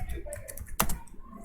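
A few keystrokes on a computer keyboard while entering a date of birth into a school register application, brief soft taps with one sharper click near the middle.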